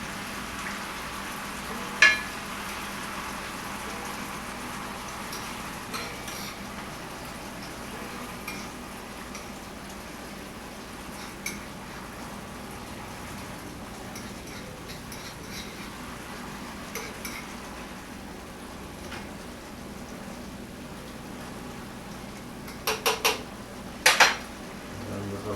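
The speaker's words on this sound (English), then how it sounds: "And we're breaking these up with the fork, so as they get warmer," A fork clinking against a pot while breaking up warming tomatoes for sauce, with sparse sharp metallic taps over a soft background hiss and a quick cluster of clinks near the end.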